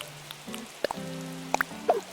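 Soft rainfall in the Animal Crossing: New Horizons video game, a quiet patter with scattered drips over faint tonal game music, a few brighter plinks standing out.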